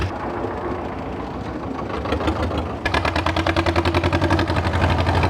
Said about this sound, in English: gonna get run over by a tractor